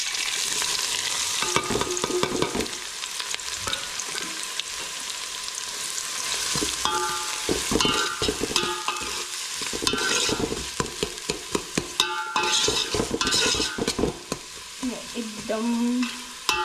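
Finely chopped onion frying in hot oil with bay leaf and star anise for chicken biryani sizzles loudly up close. Repeated scraping and stirring strokes of a spoon against the pan run throughout.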